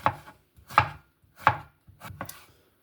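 A knife chopping pickled cucumber for a chicken and vegetable salad, four distinct crisp cuts against a board at roughly even spacing, close and alone with no talk.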